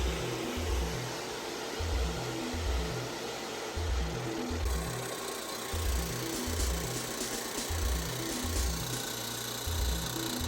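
A vacuum pump runs on the air-conditioning system of a 2002 Porsche 911 Cabriolet, giving a steady, loud mechanical drone with a regular pulsing throb that continues unbroken throughout.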